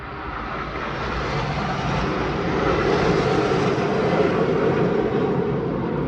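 A loud, steady engine roar of an aircraft passing overhead, broadband rumble swelling slightly and holding for several seconds with no voices.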